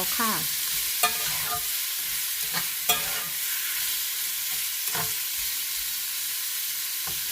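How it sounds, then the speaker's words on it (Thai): Shrimp stir-frying with garlic in a pan sizzle continuously and loudly, with repeated scraping strokes of a spatula tossing them at irregular intervals. "พอผัดกระเทียมได้เหลืองและหอมแล้วก็จะใส่กุ้งลงไปผัดค่ะ"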